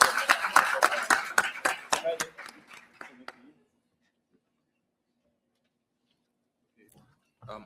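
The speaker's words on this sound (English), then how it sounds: "Give a round of applause to John Paul." A debate audience applauds the best debater, brisk distinct claps that thin out and stop after a few seconds, followed by near silence and a faint noise at the end.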